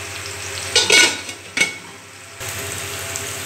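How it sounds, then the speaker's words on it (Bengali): Salted, turmeric-coated potatoes frying in a pan with oil, a steady soft sizzle broken by a few sharp clanks and scraping stirs of a utensil against the pan. "এবারে কম আছে আমরা এটাকে ঢেকে ঢেকে হালকা ভাজে নেব।"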